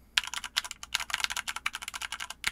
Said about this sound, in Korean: 두 번째 키보드는 포커2예요. 얘는 기계식 키보드고요.